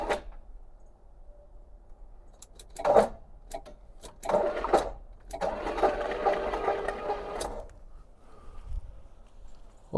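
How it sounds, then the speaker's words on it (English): A 1973 Pontiac LeMans engine cranks with the key in a few brief, fairly faint bursts of starter whir and turning, separated by quiet gaps. "Oh, yeah, he turns with the key."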